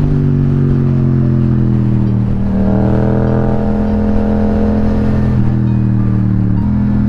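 A motorcycle rides along a gravel road. Its engine hums loudly and steadily, with a brief rise in revs midway and some faint clatter underneath.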